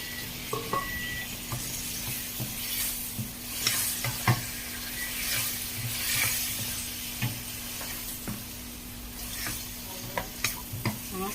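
Patola with dried prawns, egg and chicken stock sizzles and fries in a pan, a steady close hiss broken by repeated knocks and scrapes of stirring.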